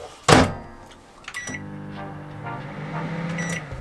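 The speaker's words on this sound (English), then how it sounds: "Another cool thing that we have is we have a proper microwave" A microwave oven: a sharp click or beep, then a steady low electric hum as it runs, with small clicks and tones on top.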